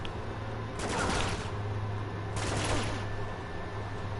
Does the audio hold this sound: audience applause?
no